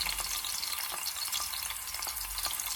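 Garlic in hot oil in a pan, giving a continuous close, crackling sizzle with fine popping, steady and unbroken for a few seconds.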